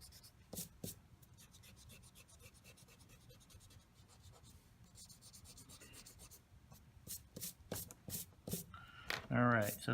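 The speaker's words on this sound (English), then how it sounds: "I'm going to come back and erase the pencil work here." A pencil eraser rubs and scratches over paper on a landscape design drawing, with quick irregular strokes, close and fairly faint, between bursts of speech.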